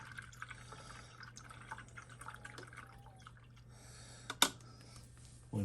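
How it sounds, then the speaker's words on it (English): A paintbrush used with enamel paint is swished and rinsed in a container of water, giving soft, quiet drips and splashes over a steady low hum, with one sharper clatter near the end. "I got another brush in the water there now"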